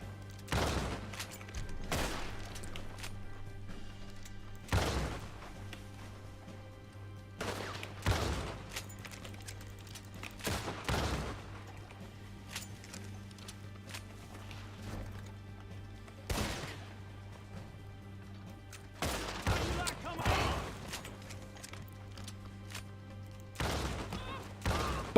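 Shotgun blasts in Red Dead Redemption 2, about a dozen sharp, loud reports fired at irregular intervals of a second or several, each cracking out over a low, steady background hum.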